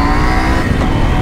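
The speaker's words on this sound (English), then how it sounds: "790, what a great parallel twin engine KTM put out again." A KTM 790 Adventure R parallel-twin engine drones loudly and steadily as the motorcycle is ridden, heard close up from the bike with a dense, continuous rumble.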